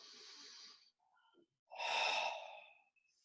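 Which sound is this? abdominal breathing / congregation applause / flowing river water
abdominal breathing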